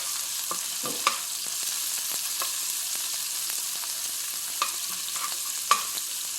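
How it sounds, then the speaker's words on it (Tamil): Fenugreek seeds frying in a pan for a fish curry, a steady soft sizzle with occasional faint taps and pops, no voices. "இந்த வெந்தயத்தை லேசாக வறுத்துக்கலாம்"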